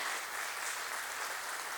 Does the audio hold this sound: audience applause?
yes